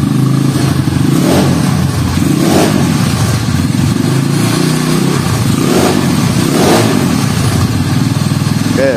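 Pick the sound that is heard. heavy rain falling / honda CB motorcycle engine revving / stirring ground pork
honda CB motorcycle engine revving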